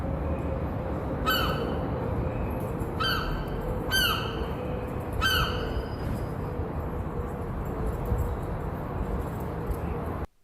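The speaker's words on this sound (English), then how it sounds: "Did you guys hear the bird squawking for the First Amendment?" Outdoors, a bird gives several harsh, crow-like squawks in spaced bursts, clear and fairly close over a steady background rumble.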